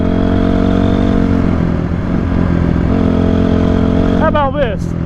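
A Honda CRF 250R dirt bike engine runs loud and close at a steady idle with a droning buzz, while a person talks over it and a higher whine joins briefly near the end.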